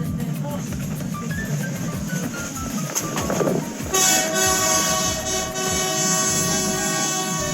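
A passenger train in Costa Rica rumbles along with rhythmic clacking of wheels, then a loud horn sounds and sustains over the ongoing rolling noise.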